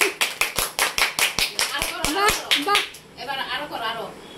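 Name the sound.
hand clapping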